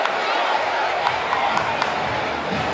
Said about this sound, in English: just looking at the crowd here